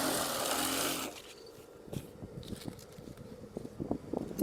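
A sewing machine stitching curtain fabric for top curtains, running in short uneven bursts after a loud noisy opening second, fairly faint and close, with no talking.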